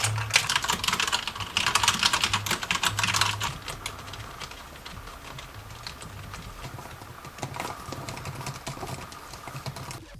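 Rapid, continuous typing on an Aula SI-2012 mechanical keyboard with knockoff Cherry MX Blue switches, dense close-up clicky keystrokes rattling along steadily, a little louder at the start.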